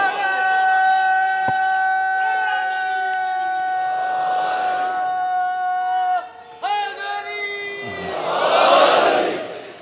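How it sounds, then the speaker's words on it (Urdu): A large religious gathering at a Muharram majlis, with voices raising slogans from different places: sustained chanted calls, some near and some distant, a loud, rising crowd swell at the end. "جب نعرے مختلف جگہوں سے لگتے ہیں"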